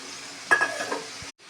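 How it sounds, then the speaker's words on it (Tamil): Spinach drops into a pan of frying onion and tomato, setting off a short burst of sizzling and stirring with a faint clink of a utensil, close and quiet before cutting off. "கீரை போடுறேன்."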